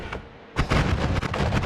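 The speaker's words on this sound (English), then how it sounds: "I'm already making fireworks." Fireworks burst in the Noita video game, a rapid string of loud crackling blasts and booms that start after a brief pause and keep going in dense, overlapping pops.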